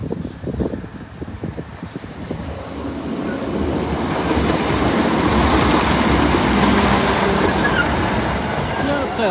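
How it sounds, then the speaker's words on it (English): A train from Leicester rumbles closer to Brayford level crossing and grows louder, its steady roar building as it passes nearby, with some speech heard faintly at the start. "Train approaching."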